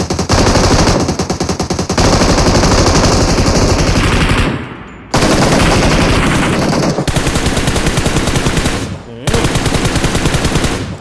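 Relentless automatic gunfire from PUBG Mobile, loud and close, long sustained bursts with brief gaps around five and nine seconds, a dense rattling stream filling the whole stretch.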